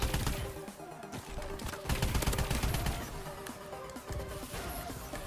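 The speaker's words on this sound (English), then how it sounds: "I'm gonna switch to the ae4 DLC gun. Laser gun." The AE4 laser gun from the DLC firing in a Call of Duty: Advanced Warfare 1v1 match: continuous dense rapid shots with a repeating tonal whine, loud and sustained over a busy game mix.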